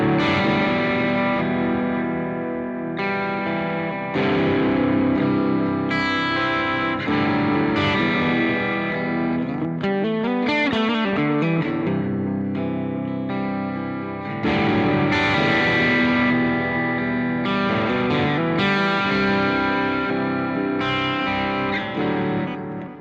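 Electric guitar played through a Boss GX100 effects processor, loud and distorted with chorus, strummed chords and picked riffs with brief gaps, continuous for over twenty seconds with no talking.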